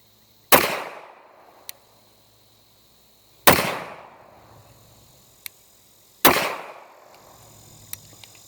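Three loud, sharp gunshots from new ammunition ring out a few seconds apart, each with a quick decaying echo, and small clicks follow between them.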